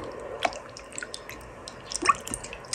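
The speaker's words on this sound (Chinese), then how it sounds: "我们来把肉清洗干净，洗去血水" Lean pork being rinsed and squeezed by hand in a bowl of water to wash out the blood, soft close splashes and wet squishes with a couple of louder sloshes, no talk.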